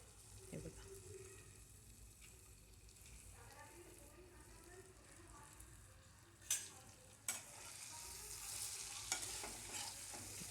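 Cabbage and chopped coriander frying in hot oil and being stirred, a soft steady sizzle with scraping strokes and a few sharp utensil clicks near the end.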